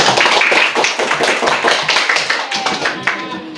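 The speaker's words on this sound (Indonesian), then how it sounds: "Tepuk tangan untuk kelompok 1" Classroom applause for a student discussion group, a close, lively flurry of many hands clapping that continues steadily and then tapers slightly toward the end.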